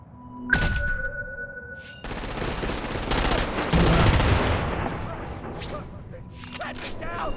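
Gunfire and explosive blasts in the video game Crackdown 2, with a sharp shot followed by a dense, sustained barrage of rapid automatic fire and booms under a tonal game soundtrack, loud and close.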